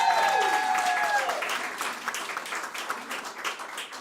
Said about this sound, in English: That's not going to be a loud enough clap for Leonie because she received her qualification cum laude.